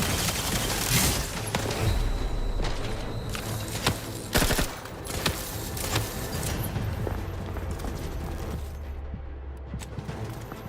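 Gunfire in The Outer Worlds 2, a dense, continuous fusillade of overlapping shots and bursts with occasional sharper cracks, loud and steady throughout against a busy combat background.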